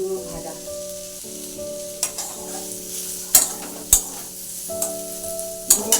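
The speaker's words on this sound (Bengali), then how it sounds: "আগে লবণ জলে সিদ্ধ করে নিয়েছি তারপরে তেলে দিয়েছি" Food that was first boiled in salted water fries in hot oil, giving a close, steady sizzle broken by a few sharp clinks and scrapes of stirring, with a faint tonal hum underneath.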